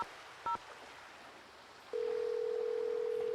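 A telephone in a Nancy Drew game gives a brief two-tone beep, then a steady, clean dial tone holds on, faint but clear against low background hiss.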